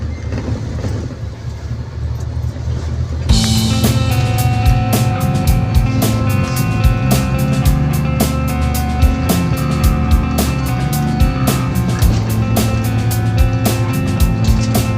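Road traffic on a busy route during a drive toward Tagaytay City, a steady broadband rumble of engines and passing vehicles that jumps louder after a few seconds and stays constant, with no talk.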